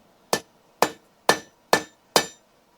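Hammer blows forging a nail on an anvil in a knife-maker's forge, five sharp ringing strikes evenly spaced about half a second apart, loud and close with nothing else around them.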